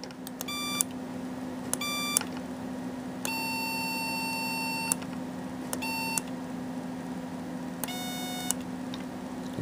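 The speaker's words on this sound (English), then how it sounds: "there we go with the leading edge" Leading-edge waveform tones from an Arduino driving an R-2R resistor DAC sound as a series of short, bright electronic beeps, some brief and one held longer, over a steady low hum.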